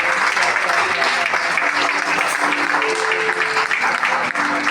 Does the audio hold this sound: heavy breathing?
no